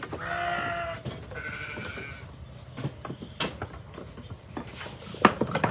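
Goats grazing on green grass let out two close, drawn-out bleats, followed by soft rustling and scattered knocks with no talking.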